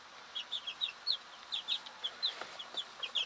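Standard white laying hens about five to six weeks old in a friend's coop make rapid, high, soft peeping and cheeping calls in a steady, busy patter, fairly close and quiet.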